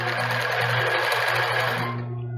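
A sewing machine stitches a lace bra cup with a zigzag stitch in one fast, continuous burst of close, mechanical rattling that stops abruptly at the end.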